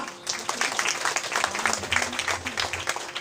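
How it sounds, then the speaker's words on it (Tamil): A temple audience claps to honour the women who sang devotional Tirupugazh songs, a dense, steady round of applause from a sizeable crowd lasting a few seconds, with faint voices underneath. "ஒரு கரவொலி எழுப்பி அவர்களை நாம் பாராட்டுவோமா?"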